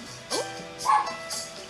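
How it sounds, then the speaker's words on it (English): A dog gives a few short yips and barks, three separate bursts spread across under two seconds, fairly close and moderately loud with a whimpering edge; no talk over it. "It's definitely a dog."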